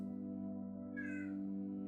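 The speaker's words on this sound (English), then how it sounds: "My cat has a lot to say today." A domestic cat lets out one short, faint meow in the middle of a continuous low steady hum, fairly distant from the listener, with no talking over it.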